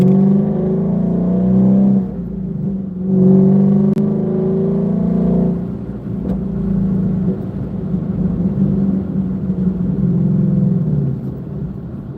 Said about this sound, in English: we need to open up the exhaust valves.